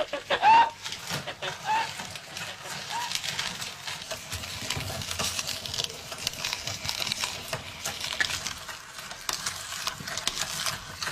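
Wartime-garden hens give faint, scattered clucks and chirps over a steady outdoor background, with a couple of brief, sharper calls near the start.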